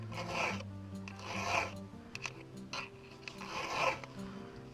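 Chainsaw teeth being sharpened freehand with a hand file, three slow rasping strokes with short scrapes between, close and fairly quiet.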